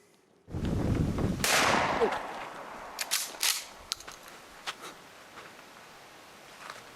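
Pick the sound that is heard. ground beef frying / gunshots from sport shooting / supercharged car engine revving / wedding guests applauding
gunshots from sport shooting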